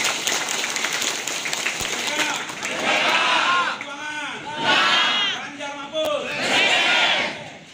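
Crowd at a political party inauguration gathering claps and cheers for the regional council chairman, rising in swells of clapping mixed with shouting voices across several seconds.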